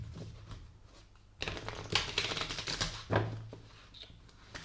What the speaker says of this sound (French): on va prendre maintenant quelques cartes du tarot